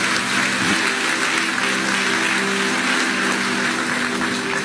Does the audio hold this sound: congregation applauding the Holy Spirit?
yes